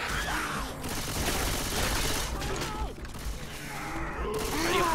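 Gunfire in the zombie co-op shooter Left 4 Dead 2 during a Realism Versus match: clustered rapid shots and mechanical clatter overlap in loud bursts, with short gaps and game ambience between volleys.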